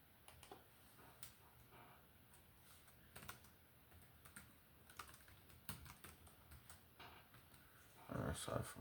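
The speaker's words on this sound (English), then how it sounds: "Sorry for my typing." Rapid clicks of a computer keyboard being typed on, with irregular bursts of keystrokes, faint and close, while a voice talks intermittently in the background.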